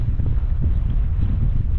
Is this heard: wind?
yes